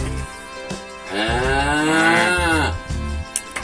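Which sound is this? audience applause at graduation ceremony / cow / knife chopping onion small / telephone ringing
cow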